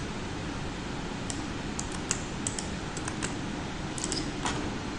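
Rapid keystrokes on a computer keyboard as a database query is typed, irregular close clicks in short bursts over a steady low hum, with no voices.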